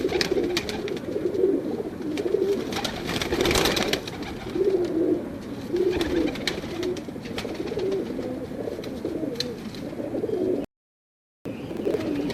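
A pigeon coos in repeated soft, rhythmic rolls close to the microphone, with faint outdoor ambience around it and a brief dropout near the end.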